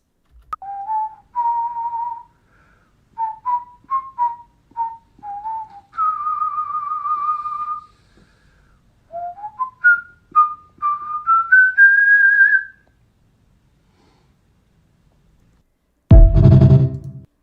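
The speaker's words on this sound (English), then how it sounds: "you're whistling" Someone whistles a slow tune in clear, sustained notes and short phrases, with a long pause near the end before a brief loud thump.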